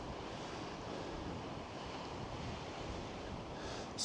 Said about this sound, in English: Splashy waves down on the bottom